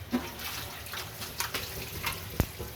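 Water runs from a tap as karfu fish is rinsed by hand in a sink after being taken from large ice chunks, a steady quiet flow broken by soft splashes and one sharp knock near the end.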